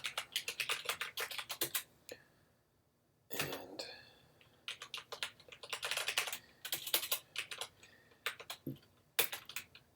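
Rapid bursts of keystrokes on a computer keyboard while entering code, irregular clusters of clicks with a short pause midway, close and clear with no talking.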